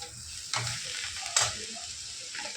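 Fried rice with capsicum being stir-fried at a street food stall, a soft background sizzle broken by two sharper bursts of tossing and scraping.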